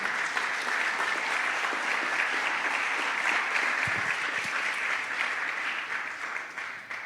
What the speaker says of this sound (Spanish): Aleluya, dale aplauso al Rey.